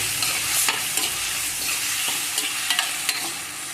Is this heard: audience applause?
no